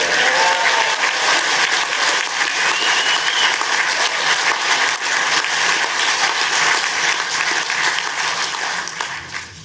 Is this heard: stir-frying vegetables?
no